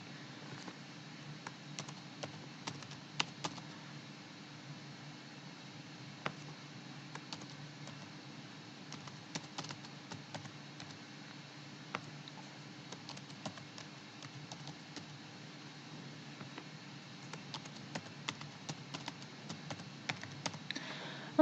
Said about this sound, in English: Okay, let's type them.